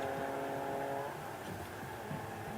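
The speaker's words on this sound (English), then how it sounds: "as the cars now go through turn 2" Renault Twingo Cup race cars driving through a turn at the Slovakia Ring circuit, a steady, loud engine drone with a slight swell as the cars pass, heard without any talk.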